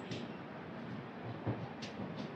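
A special train from Chennai Egmore to Visakhapatnam pulls out of Nellore railway station after a short halt, heard as a faint, steady low rumble with a soft thump and a couple of brief high squeals.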